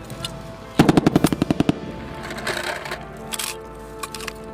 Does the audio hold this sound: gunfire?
yes